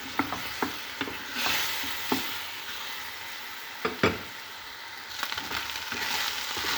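Chicken pieces frying in a pan with salt, coriander and pepper, a soft steady sizzle broken by scattered scraping clicks of a utensil stirring and turning the meat, close and fairly quiet.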